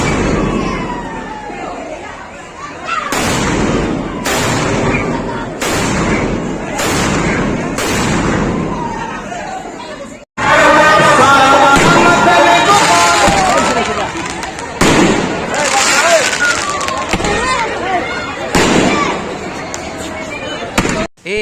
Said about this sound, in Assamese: এইটো চাওকচোন এই আকাশী বোমাবোৰ